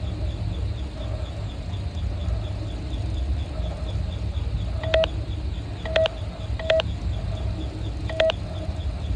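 Keypad button tones in the Five Nights at Freddy's game: a few distinct electronic beeps spaced out over a low steady background hum, each tone short and clear.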